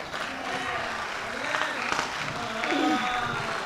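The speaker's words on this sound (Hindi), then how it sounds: "इस बात पर आपकी तालियां उड़ जाएगी" Audience applause at a Hindi comic poetry gathering (hasya kavi sammelan), a steady wash of clapping with a voice talking over it and a brief laugh-like burst near the end.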